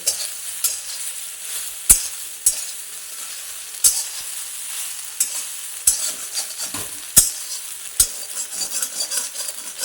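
Steady frying sizzle of soybeans in an iron wok, with a spatula scraping and stirring through them, sharp metallic scrapes recurring every second or two.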